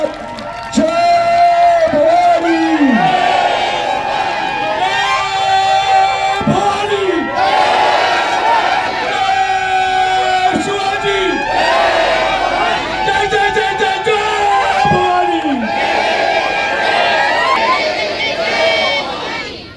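A large crowd loudly chants the slogan "Jai Bhavani Jai Shivaji" across the Vilaspur and Golibar area, with voices rising together in repeated, rhythmic calls over a constant babble.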